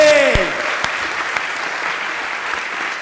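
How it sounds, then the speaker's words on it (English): Audience applause for a panel at the close of a 2011 mobile apps and ads session: a steady wash of clapping from a room of people, with a brief spoken voice at the start and a few sharper claps standing out. "I'd like you to give up a huge round of applause for our panel"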